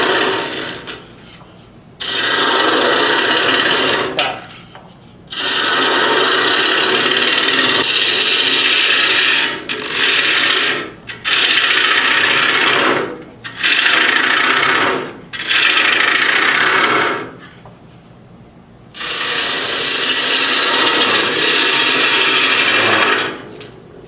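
Gouge cutting a wooden calabash bowl on a spinning lathe, loud close rasping passes of several seconds each, separated by brief pauses and scraping touches.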